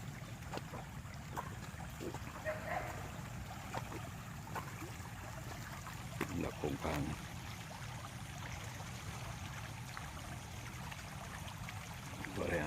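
Rain floodwater flows through a ditch between garden beds, a faint, continuous low rushing and gurgling heard at a distance, with light wind buffeting the microphone and scattered small splashes and knocks.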